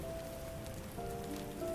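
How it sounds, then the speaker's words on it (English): Steady rain falling outside during a typhoon, a constant close patter on surfaces with faint tonal background sound mixed in. "It's just a lot of rain and a little bit of wind outside"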